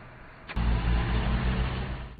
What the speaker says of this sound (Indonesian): Dusik mendengar suara kedatangan mobil